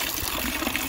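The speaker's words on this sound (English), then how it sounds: "He's blowing into this shell, which is then making the water come out" Water streaming from a shell held by a concrete sculpture into a fountain basin, a close, steady splashing flow over a brief moment.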